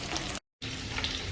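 Beef, pork and shrimp sizzling on a Korean barbecue grill, a steady close crackle broken by a brief cut of silence.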